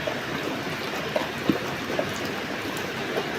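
Steady rain hisses evenly throughout, with a few slightly louder drops or taps standing out now and then. No voices.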